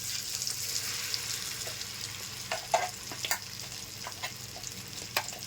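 Tamarind pickle being mixed in a frying pan with hot tempering oil: a continuous low sizzle carries scattered scraping taps and clicks of the spoon against the pan.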